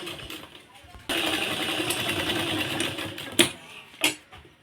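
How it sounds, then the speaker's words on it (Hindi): A sewing machine runs a straight seam on a belted blouse, starting after a second and whirring steadily for about two seconds. A couple of sharp clunks follow as the stitching stops, with soft handling noises around it. "सीधी सिलाई मार देंगे"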